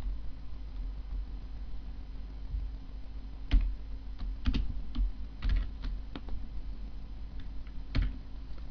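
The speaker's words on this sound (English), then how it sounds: "I'm just typing this out" Keys on a computer keyboard click in short, irregular bursts of typing during PHP coding, close and fairly quiet over a low background hum, with no talking.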